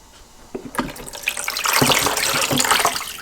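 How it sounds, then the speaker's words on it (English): Water is poured out of the base of a Homedics humidifier into a sink: a few splashes and drips build into a steady, close gushing stream that runs to the end, with no talk. "dump your water towards the arrow, and get all of the water out of the bottom of your humidifier"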